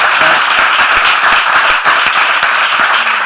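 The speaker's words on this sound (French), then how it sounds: "On peut applaudir pour ce grand Dieu." Audience applause at a live stage show, a dense burst of many hands clapping together, loud and close, sustained without pause through the whole stretch.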